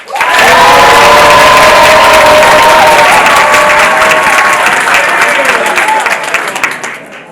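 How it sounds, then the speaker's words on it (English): A large event audience gives a loud, sustained round of applause mixed with cheering and crowd noise, holding steady for several seconds before tapering off at the end. "A round of applause if you think Zama is the girl."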